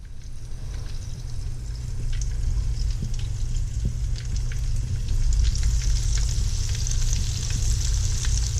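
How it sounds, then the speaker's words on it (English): Coated steak strips drop into hot oil for deep frying, a dense continuous sizzle and crackle that swells a little as more pieces go in, close and loud over a low rumble, with no speech. "it's gonna go straight into your hot oil for about 10 to 15 minutes"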